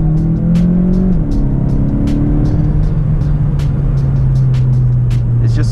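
Volkswagen Golf GTE accelerating hard in second gear from low speed with traction control active, a loud steady engine drone rising slightly in pitch with a brief shift in tone early on, heard close from inside the car.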